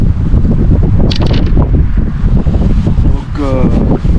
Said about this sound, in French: il fait pas chaud, un vent du nord froid